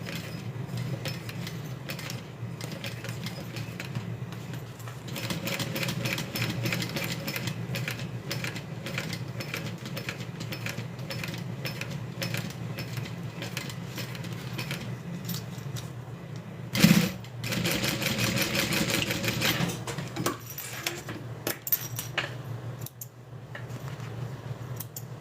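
A sewing machine stitching a zip around a wallet, running in a steady, close mechanical chatter with short pauses and one sharp clunk partway through.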